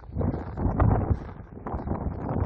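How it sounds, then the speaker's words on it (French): Strong wind buffeting across a mountain col on a hiking trail, a steady roaring rumble with gusty surges, loud and close as it blows over the microphone, no talk. "Oh merde, putain, il y a du vent."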